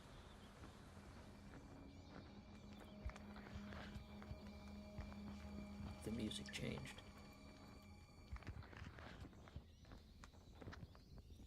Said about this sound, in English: The footsteps are are really messing with me.